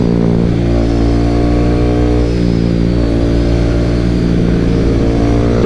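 A KTM RC 390 motorcycle accelerates hard on a track, its engine note rising steadily and loudly with no speech.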